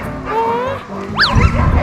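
Puppy in Alaska giving a sharp yip and whimpering bark near the end, preceded by a drawn-out whine, close and loud, with someone talking around it.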